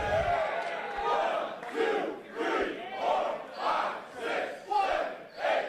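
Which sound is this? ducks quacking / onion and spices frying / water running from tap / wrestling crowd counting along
wrestling crowd counting along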